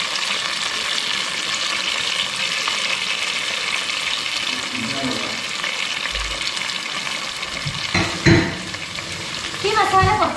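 Garlic-laced masala fries in oil in a pan while being stirred, a continuous close sizzle with a few heavier scraping stirs and clatters near the end.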